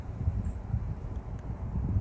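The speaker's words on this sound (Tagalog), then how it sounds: "Ang lakas ng hangin talaga oh. Tinig na dinig ang ihip ng hangin oh." Strong outdoor wind gusting in a cold setting, a low continuous rumble buffeting the microphone in uneven surges, loud and close with no other sounds.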